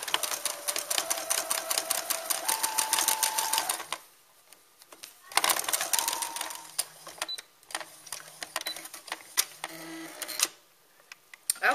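A sewing machine stitches fabric around a small lamb doll's head in quick rapid bursts, pausing as the work is pivoted, then resuming with fast rhythmic needle chatter; a voice talks faintly in between.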